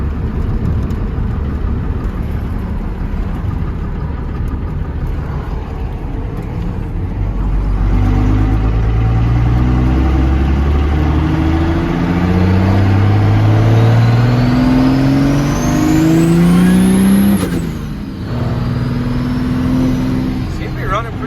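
A P-pumped 24-valve Cummins diesel burnout truck idles with a deep rumble, then revs up in rising, loud pulls. It drops back briefly before revving again.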